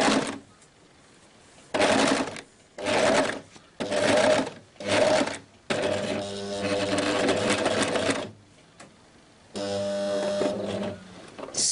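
An overlock serger stitches fabric for a girl's dress in several loud bursts, starting and stopping in short runs before two longer continuous sewing passes, with no talking.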